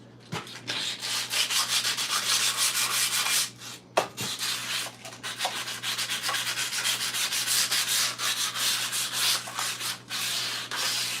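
Sandpaper rubs steadily across a metal armour plate, a harsh continuous scratching hiss with quick strokes and a brief pause near the middle, close and clear with no voices.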